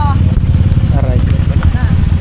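A motorcycle engine runs with a steady low rumble and light clatter in a busy parking area in Pili, close by, while people talk loudly over it.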